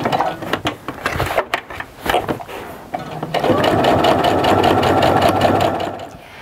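A sewing machine topstitches a tote bag seam, first in short stop-start bursts, then in a steady, fast, continuous run of needle stitching, close and fairly loud.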